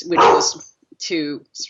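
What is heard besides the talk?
dog barking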